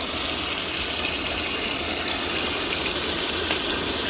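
Boiled peas and their cooking water poured into a huge 10 kg Punjabi pullao pot in a Pakistani village kitchen, a steady loud gushing splash with a hissing roar underneath, close and continuous.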